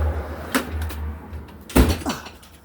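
A Snap-on toolbox drawer sliding shut in a garage, giving two short clattering impacts with a metallic rattle, the second louder, against a low steady hum.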